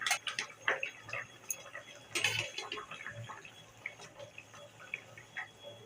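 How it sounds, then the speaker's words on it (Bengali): Fish curry gravy with potato and taro simmers in a pan, giving irregular small bubbling pops and ticks that are fairly close, with a brief louder splashy burst partway through. "আমার ঝোলটা ফুটে গেছে, এবার মাছ দিচ্ছি।"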